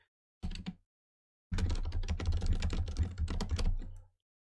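Keys on a computer keyboard clack nearby as FLAC is typed: a brief tap, a pause, then a quick run of crisp keystrokes lasting a few seconds, with no voices.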